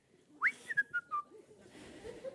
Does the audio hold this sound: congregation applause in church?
no